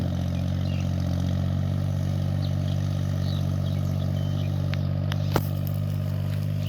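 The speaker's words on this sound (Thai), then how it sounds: "รถไถมันดึงดึงดินขึ้นมาแล้วก็หาหนอนมันได้กิน" A tractor plows and churns a flooded, muddy rice paddy with a steady, loud, low engine drone that holds evenly throughout. A brief clank rings out near the end.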